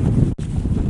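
Steady, heavy wind buffeting the microphone at Mauna Kea, Hawaii, a low rumbling roar that briefly cuts out near the start before resuming.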